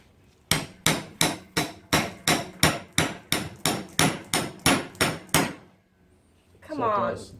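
A hammer drives a blunt chisel against a CV joint during a strip-down, giving a steady run of about fifteen loud, sharp metallic blows at an even pace, followed by a short scraping rustle after a pause.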